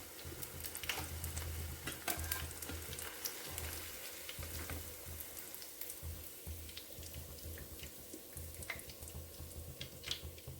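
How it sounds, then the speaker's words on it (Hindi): Arbi leaf pakoras fry in hot oil, a faint, steady sizzle with scattered crackles and pops, no voices. "इससे ज़्यादा हम इसको नहीं फ्राई करेंगे, नहीं तो ये जल जाएंगे"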